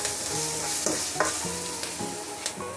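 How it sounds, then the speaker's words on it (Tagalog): Minced garlic stirred in a hot pan for pork kaldereta, a steady close sizzle broken by repeated soft scraping strokes of the spoon. "Halo-halo lang tayo."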